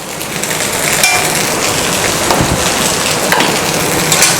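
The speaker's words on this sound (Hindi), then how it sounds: "इसे फिर हिलाएंगे।" Chicken fried rice is tossed and stirred in a hot frying pan, giving a loud, continuous sizzle broken by scraping and clattering strokes.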